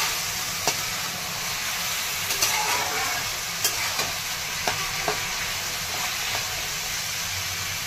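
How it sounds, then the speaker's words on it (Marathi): Soaked chana dal is stirred in a hot pan with potato and ridge gourd, a steady loud sizzle and hiss broken by soft scraping taps of the spoon, close and continuous with no voices. "हरभऱ्याची डाळ भिजलेली छान मिक्स करून घ्यायची."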